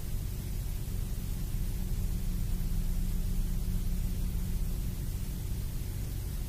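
Omnipresent white noise from the horror film Skinamarink: a constant dense hiss with a low humming rumble beneath, steady and fairly loud throughout with no voices.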